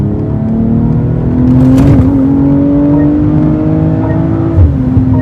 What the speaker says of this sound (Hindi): और जब जैसे आपने पुश करा गाड़ी को और आप जैसे रेस छोड़ते ना तो आवाज सुनो आप, कितनी प्यारी आवाज आती है इसके अंदर।